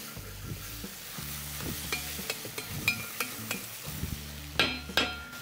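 Soya chunks fry in a wide pan with a steady sizzle, while a spatula stirs and scrapes them in repeated strokes, close up and without talk.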